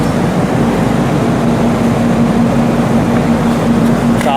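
The Sainik Express train stands at Gurgaon station in the monsoon, giving off a loud, steady rumble with a constant low hum throughout and a faint rising squeal near the end.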